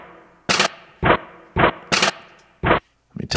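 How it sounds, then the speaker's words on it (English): A pitched kick-and-snare beat built from a crackling bag sample sounds as six sharp, punchy hits in a steady groove, alternating a deeper thump with a brighter crack, loud and close with no talk. "It's sort of like a kick and snare."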